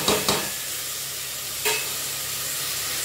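Tomatoes sautéing in a pan for a drumstick-leaf millet rice dish, with a constant hiss and sizzle and a couple of brief stirring scrapes near the start and middle.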